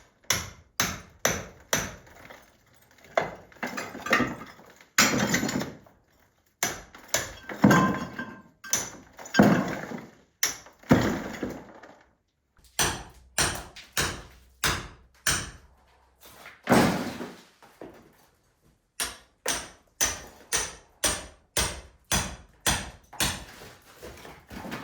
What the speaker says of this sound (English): I started chipping away the mortar and some cement that had been underneath the tiles